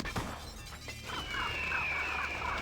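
Glass shatters with a sharp crash in the video game Jampire, followed by a bright ringing tinkle of falling shards over a steady game background hum.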